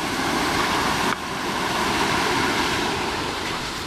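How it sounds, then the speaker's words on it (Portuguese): A small waterfall beside a muddy, rainy mountain trail near Pico do Gavião gives a steady, close, broadband rush of falling water that keeps going without a break and has no voices over it. "cachoeirinha que eu falei"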